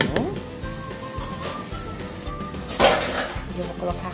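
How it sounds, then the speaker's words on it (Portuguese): A metal pressure cooker pot is picked up and handled in a home kitchen, with clanks, scrapes and clinks of cookware close by, while a voice talks over the clatter. "Agora eu vou pegar a panela de pressão"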